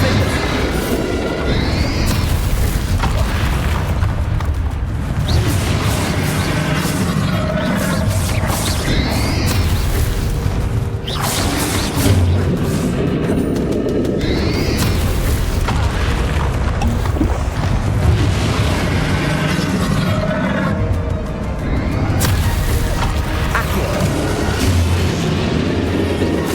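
Booming blasts from the Confringo fire spell in Hogwarts Legacy amid a duel, repeated heavy explosions and crackling magic effects filling a loud, busy battle soundscape for the whole stretch.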